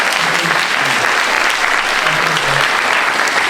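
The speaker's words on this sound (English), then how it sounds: "so applause for Stephen" An audience applauding after a lecture at an architects' summer seminar, loud, close, continuous clapping that fills the whole moment, with a few faint voices mixed in.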